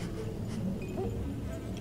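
Bees buzzing around a nest in the game Ancestors: The Humankind Odyssey, a close, continuous insect drone that wavers in pitch, with faint rustling beneath.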